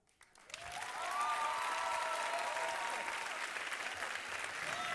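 An audience bursts into sustained applause at a French eloquence competition semi-final, rising quickly after a brief quiet start and holding loud and dense, with a faint tonal whistle or cheer riding over the clapping.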